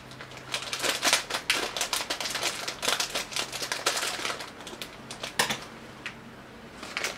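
Scissors snip and crinkle through a small plastic sachet of biscuits, a rapid run of crisp close cuts and rustles that slows and fades toward the end.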